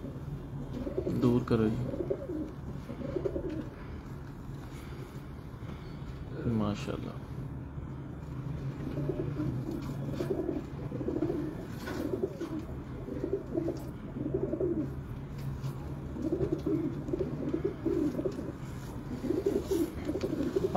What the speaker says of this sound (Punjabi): ਇਹ ਵੱਡਾ ਕਬੂਤਰ ਹੈ ਇਹਨਾਂ ਦਾ